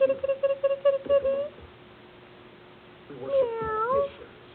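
A cat meows repeatedly in short, close bursts at first, then after a quiet pause gives one longer, drawn-out meow.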